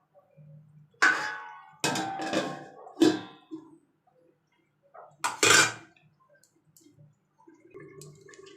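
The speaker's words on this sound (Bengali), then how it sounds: "তো ঢাকাটা এবার খুলে নিচ্ছি দেখো তো" A metal lid comes off a pan of Bhola fish cooking in oil, with several sharp clanks and rattles spread over a few seconds against a quiet kitchen, close by with brief pauses between knocks.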